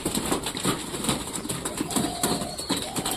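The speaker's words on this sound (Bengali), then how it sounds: "তারপরে সব কবুতর নামতেছে" Pigeons come down to land near food, with close fluttering wing flaps and scattered bird sounds over a steady busy background, no talking.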